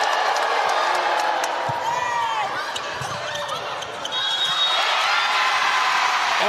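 A volleyball arena crowd erupts in loud, sustained cheering and whoops after a thunderous kill at set point, with scattered squeaky shoe and ball sounds beneath the broad roar.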